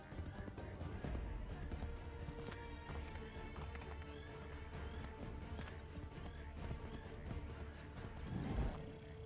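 A horse gallops in the video game Assassin's Creed 3, with steady clip-clop hoofbeats under a dense mix of game sound and a low layer of talk, growing louder near the end.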